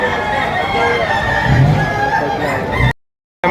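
Chickens and roosters cluck and crow at a rainy outdoor market in Padre Garcia, Batangas, over a steady crowd murmur and voices, ending abruptly in a short silence.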